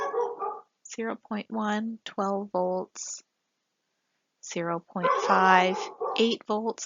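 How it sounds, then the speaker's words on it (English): A dog barks and yips indoors in short bursts, loud and close, overlapping with someone talking during a physics lecture on circuits. "My dog heard someone barking outside, and now he's helping out."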